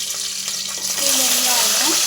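Garlic frying in a pan during home cooking, a steady loud hiss and sizzle that grows fuller midway, with faint clinks and scraping close by.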